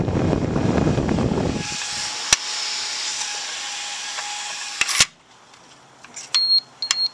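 A fan on a one-gallon wood forge stove whirs steadily, then cuts out abruptly, and its controller gives several short, high beeps close by in near silence.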